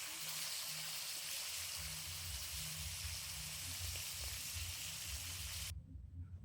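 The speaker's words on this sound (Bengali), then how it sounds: "মাছগুলো একে একে ভেজে নেব।" Fish fry in hot mustard oil in a wok, giving a steady, close crackling sizzle that runs unbroken for several seconds before cutting off abruptly.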